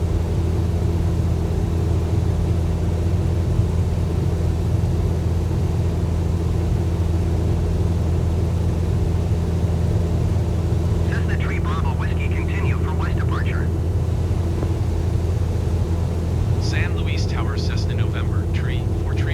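A light aircraft climbs out after takeoff from San Luis Obispo at about 70 knots. Its engine drone is loud, steady and unbroken, heard from inside the cabin, with brief radio chatter crackling over it twice.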